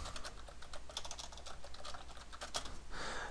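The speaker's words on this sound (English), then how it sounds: "you're just going to type in whatever you like." Steady typing on a computer keyboard, quick irregular key clicks running throughout at close range, with a brief denser burst near the end and no talking.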